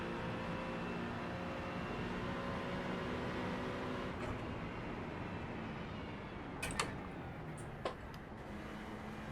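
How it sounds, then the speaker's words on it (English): Race car engine from a Bathurst 12 Hour racing video game, a steady low drone running on cold tires, with a couple of brief sharp clicks near the end. "Turned it up a little bit so I can hear the engine."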